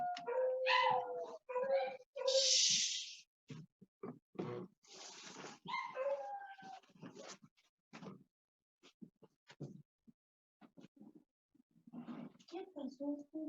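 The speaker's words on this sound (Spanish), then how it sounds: "mis perritos se les ha ocurrido aullar" Pet dogs at home howl and bark in short, close bursts with whimpering yips, broken up by gaps and overlapping someone talking.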